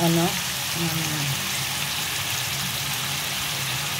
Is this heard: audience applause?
no